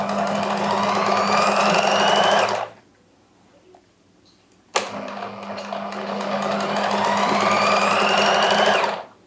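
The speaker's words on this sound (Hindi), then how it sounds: "किनारे पे आपने लेस के सिलाई लगानी है" Electric sewing machine stitching lace onto a fabric edge, its loud steady whirring running in two long bursts with a quiet pause between, no voices.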